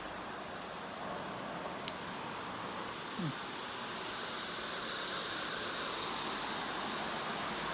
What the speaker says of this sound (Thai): เดี๋ยวมาเพื่อนๆไปดูฝนนะคะ